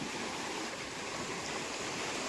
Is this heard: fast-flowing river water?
yes